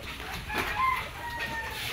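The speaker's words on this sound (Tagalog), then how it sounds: "ito po yung kay mamang inahin" A mother hen clucks at a backyard farm pen, a few soft clucks against steady outdoor noise and faint chirps.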